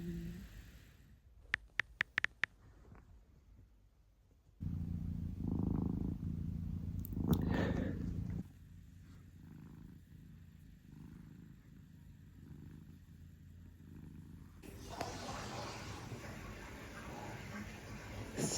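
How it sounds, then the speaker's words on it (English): Soft, low rumbling purr with slow breathing rhythm, close and quiet, interrupted by some handling noises and a brief rustle; no speech. "the cat snores"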